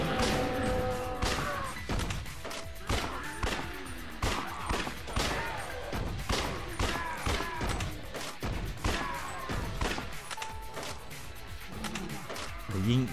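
Rapid gunshots in the Judgment shooting mini-game ring out as a steady series of sharp cracks and impacts over game music, with someone talking intermittently.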